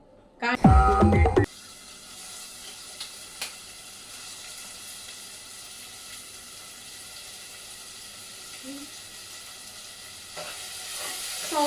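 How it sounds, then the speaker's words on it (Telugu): Onions and chillies frying in a pan, a loud clattering burst of stirring near the start giving way to a steady, fairly quiet sizzle that runs on to the end, with no talk. "ఆనియన్స్ మిర్చి ఫ్రై చేసేస్తున్నారు మమ్మీ."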